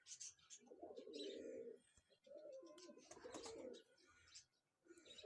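A domestic pigeon, a flying kabootar kept at a pigeon club in Chishtian, coos in repeated soft throaty bursts close by, with brief pauses and faint chirps between them.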